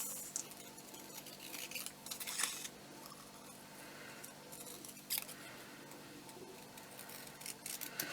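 Scissors cutting around paper for a craft project, a quiet close snipping and rustling with a few soft cuts spread through an otherwise hushed room, no talking.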